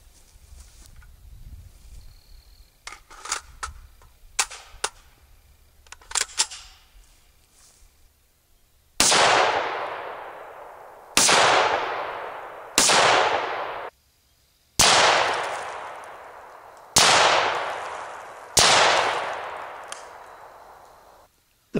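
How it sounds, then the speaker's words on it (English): An FN P90 firing 5.7x28mm rounds into a concrete target: six loud, sharp reports spaced about two seconds apart, each with a ringing decay, after a quieter lead-in of faint clicks and handling noise. "What we'll do is go ahead and fire three more rounds to get a 5-round composite."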